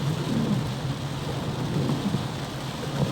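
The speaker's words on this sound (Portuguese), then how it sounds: "Hoje está chovendo desde a madrugada." Heavy rain pours over the city of João Pessoa, with flooded neighborhoods, a dense, steady hiss and patter that holds without a break and with no voices.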